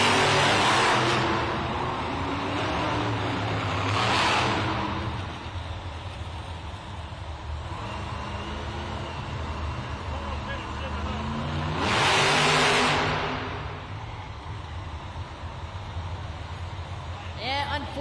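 Monster truck engines at a Monster Jam arena event in Glasgow, roaring loudly in two revving bursts amid crowd noise, with an announcer talking over the din.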